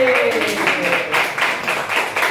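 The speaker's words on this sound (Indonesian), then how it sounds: "Betul, tepuk tangan lagi." Children in a classroom clap their hands in a quick, steady rhythm of repeated claps, close and fairly loud, with voices mixed in.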